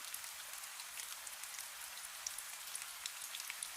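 Steady, even rainfall patters and hisses without pause, with scattered small droplet ticks over a soft continuous wash.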